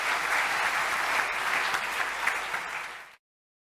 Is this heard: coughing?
no